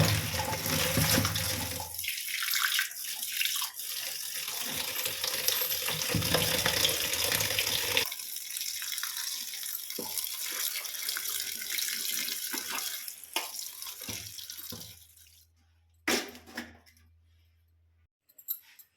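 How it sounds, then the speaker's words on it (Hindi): Water drains and trickles from freshly washed bathua greens in a home kitchen, a steady splashing rush that runs for about fifteen seconds before thinning out to a few faint drips and knocks near the end, with no talking. "जब तक हमारा साग से पानी निकल रहा है"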